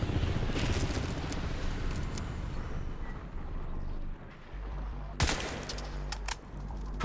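Rapid SCAR rifle fire in Crysis 3 rattles out in dense, sustained bursts with a heavy low rumble, easing briefly before a sharp loud crack near the end.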